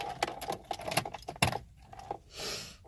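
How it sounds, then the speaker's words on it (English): Metal keys on a keyring hung with black tourmaline and smoky quartz crystals jangle in several close, uneven bursts, with a brighter shake near the end. "I carry black tourmaline and a smoky quartz on my keys."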